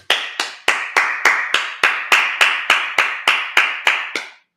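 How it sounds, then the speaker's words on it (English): A congregation at a Sabbath service claps in a steady rhythm of about fifteen sharp, evenly spaced claps, loud and close, with no talking over it. "Let's clap it up."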